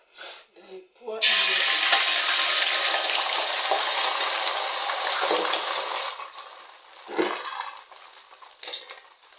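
Liquid poured into a rice mixture during home cooking, a steady bright splashing pour that runs for several seconds, fades out, then a short clink of utensils, with brief talk at the start.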